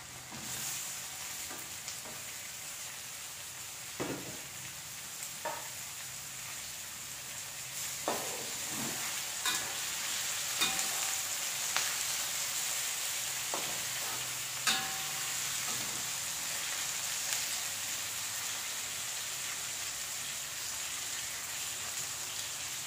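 Tomatoes sizzle and fry in a pan for egg sambal, with a steady hiss and occasional stirring clinks and scrapes, moderately close and continuous without talk.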